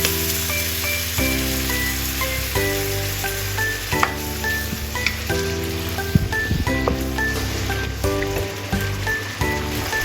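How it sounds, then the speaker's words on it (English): Black fungus stir-fried with celery in a hot pan gives a steady crackling sizzle under soft background music, with occasional scraping clinks as the ingredients are stirred. "add the black fungus and stir-fry together"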